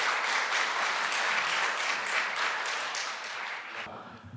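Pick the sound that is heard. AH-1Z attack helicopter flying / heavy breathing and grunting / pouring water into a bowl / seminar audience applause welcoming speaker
seminar audience applause welcoming speaker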